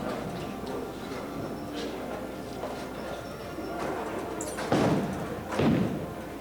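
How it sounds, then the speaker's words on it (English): Tenpin bowling finals: a ball runs down the lane with a low rumble, then a sharp clatter of pins as nine fall, followed by a second impact, all heard from a distance amid the hum of a busy alley. "Puts that shot a bit light in the pocket and also gets 9 pins"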